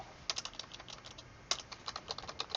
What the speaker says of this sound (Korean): 이렇게 해 놓으면 이제 키보드로 정답을 입력하겠죠